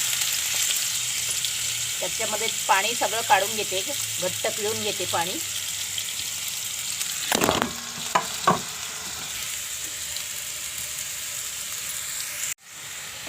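Grated bottle gourd for dudhi halwa sizzles loudly in two spoons of ghee in a kadai, a steady hiss with a few utensil knocks while someone speaks early on.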